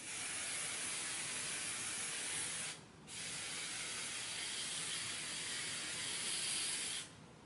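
Two long, steady hisses of hair spray on makeup, with a short pause between them, close to the microphone and loud against a quiet background.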